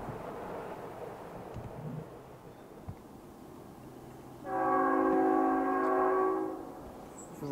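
A train horn sounds one long, loud blast, rising suddenly after a few seconds of low rumble and outdoor ambience, with a dog and a person waiting near the tracks.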